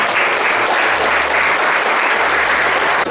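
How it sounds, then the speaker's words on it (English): Audience applause at a West Dunbartonshire community gardening and environment event, a steady dense wash of clapping that fills the whole stretch loudly and evenly, with no talk over it. "you should give yourself a big round of applause and have a great day"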